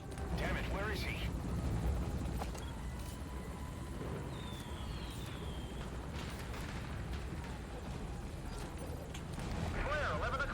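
Helicopter rotor noise from the video game Metal Gear Solid V: Ground Zeroes, a steady loud drone running throughout beneath game sounds, with spoken radio chatter over it.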